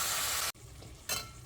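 Grated carrots frying in a pan for gajar ka halwa give a loud, steady sizzle that cuts out briefly, resumes more softly, then swells again as the carrots are stirred.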